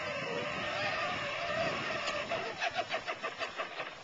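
A jeep is driven, its engine running as a steady mid-range drone that breaks into a rhythmic pulsing toward the end, heard fairly close.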